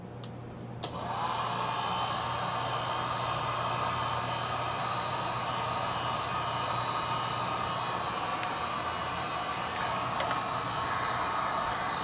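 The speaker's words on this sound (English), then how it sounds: "we're gonna plug in the heat gun, and here we go. Put it on low." A heat gun on its low setting, powered through an inverter from a UPLUS 12V LiFePO4 battery, switches on with a click and then blows a steady, loud, unbroken airy roar with a low electrical hum underneath, running alone.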